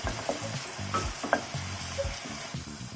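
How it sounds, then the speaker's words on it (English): Ginger and garlic frying in a pan for chicken curry, a steady close sizzle broken by repeated scraping stirs of the utensil against the pan, moderately loud with no voices. "We'll cook the ginger and garlic until it turns light brown."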